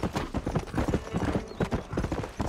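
Horse hooves clip-clop at a steady trotting rhythm in the Western video game Red Dead Redemption, loud and close, with a faint whinny and no talk over it.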